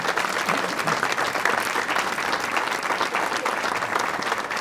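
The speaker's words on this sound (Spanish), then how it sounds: "familia Torres, muchas gracias y un aplauso para ellos también," An audience at the inauguration of the San Miguel tower in Castellote gives the Torres family sustained applause, dense even clapping throughout at a moderate distance.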